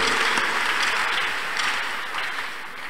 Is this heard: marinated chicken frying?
no